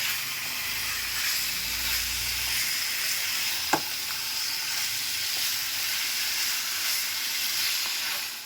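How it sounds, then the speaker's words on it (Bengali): Chicken sautéing in a pan over a medium flame gives a constant low hiss and sizzle with one sharp clink partway through, steady and close with no talking. "মিডিয়াম ফ্লেমে রেখে এটাকে ভালো করে আমি কষিয়ে নেব"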